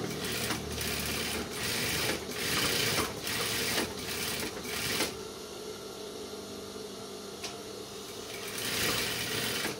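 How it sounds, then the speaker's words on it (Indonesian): A sewing machine runs in quick bursts while stitching the edge of a men's trouser waistband, its rapid mechanical needle chatter starting and stopping several times, then giving way to quieter handling noise, close up with no talk. "Kita jahit pinggirnya dulu satu."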